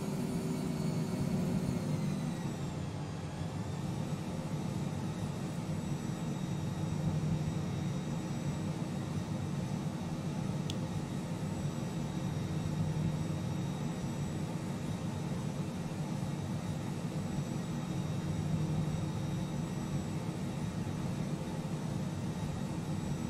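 A Cessna Citation Mustang C510 jet in Microsoft Flight Simulator 2020 taxiing at Granada, Spain, a steady low turbine hum and whine with faint high tones, continuous and even throughout.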